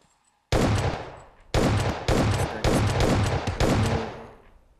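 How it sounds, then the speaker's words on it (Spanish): Gunfire in the PUBG Mobile video game, five loud, close bursts of rapid automatic shots about half a second apart, each ringing out briefly, with no talk over them. "Voy a ver si le puedo disparar acá."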